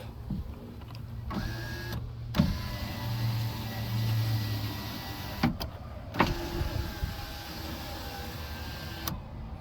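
A Nissan Cube power window motor whirs steadily after a regulator slider repair, a close continuous electric hum with a few clicks and thumps as the glass travels and stops.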